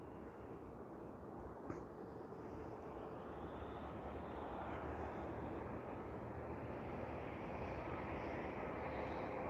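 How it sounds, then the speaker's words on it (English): An Air Canada Express plane, a flight in from Kamloops, arrives at Vancouver International Airport with a faint, steady distant engine rumble and roar that swells slightly, with no speech. "next arrival here is Air Canada Express flight QK61 coming in from Kamloops"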